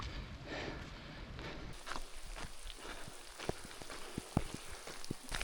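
Rain falls around a runner on a cold mountain trail during a 100 km ultra race in Val d'Aran, a steady hiss with scattered close drips and taps, alone without talking.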